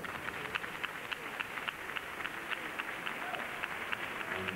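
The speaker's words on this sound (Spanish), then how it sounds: "Un aplauso para ellos." Audience applause at a Cádiz carnival awards ceremony where golden masks are presented: a steady, distant wash of many hands clapping, fairly faint and even, with no clear speech.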